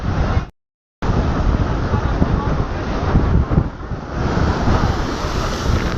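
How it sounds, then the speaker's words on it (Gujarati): Loud, gusting storm wind by the sea buffets the microphone over crashing surf, with a brief dropout near the start before the roar resumes. "જો આ પવન છે ને વાવાઝોડા જેવો છે હો ભાઈ"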